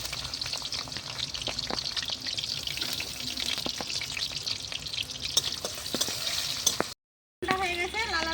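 Chopped onion and dried red chili frying in oil in a pan on a clay stove, a steady close sizzle with occasional stirring clicks throughout, breaking off for a moment near the end before resuming.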